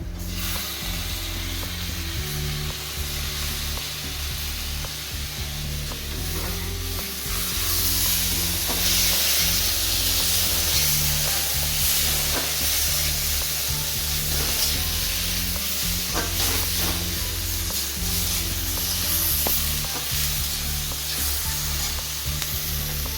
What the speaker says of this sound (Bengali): পেঁয়াজগুলো লাল লাল করে ভেজে নেব। এরপর কেটে রাখা টমেটোগুলো দিয়ে দিলাম।